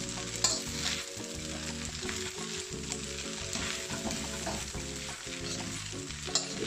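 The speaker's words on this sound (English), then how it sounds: "I'm frying the pepper with the spaghetti so that they're all cooking at the same" Close, steady sizzling of pepper and spaghetti stir-frying together in a pan, with stirring and scraping noises running throughout.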